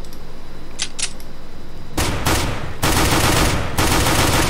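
Gunfire from the video game CS:GO is heard as two quick faint shots, then a series of loud, sharp bursts of rapid fire. No voices are heard.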